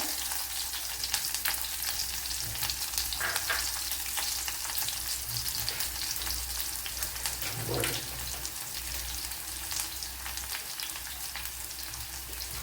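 Chopped shallots and mustard seeds fry in a tablespoon of coconut oil, a steady crackling sizzle heard close up, with a low hum underneath and a brief stirring scrape partway through.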